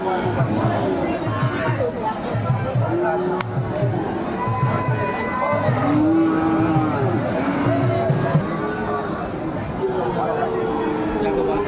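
Shahiwal cattle low and moo several times at a livestock market in Noakhali, with long drawn calls rising over a steady hubbub of crowd chatter nearby.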